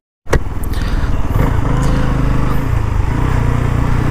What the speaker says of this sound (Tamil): வண்டி ஓட்டி பார்த்துட்டு சொல்லுவோம்